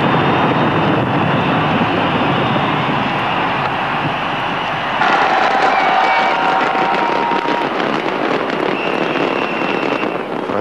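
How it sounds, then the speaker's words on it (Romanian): Large New Year fireworks display over the Thames in London, heard in rain before a huge cheering crowd: dense, continuous crackling and popping bursts fill the scene loudly, with a roar of crowd noise and distant booms, and no talking. "milioane de spectatori au aplaudat frenetic gigantica demonstrație pirotehnică de peste Tamisa"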